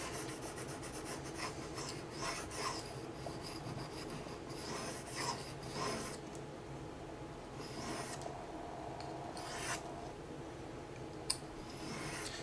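A knife edge is drawn across an 800 grit sharpening stone in quiet, repeated rasping strokes of irregular rhythm, close and faint, with no one speaking.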